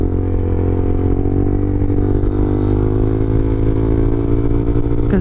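A 2013 Yamaha TW200 motorcycle cruises along a smooth road, its single-cylinder engine producing a loud, steady, close-up drone with constant rumble and no pauses.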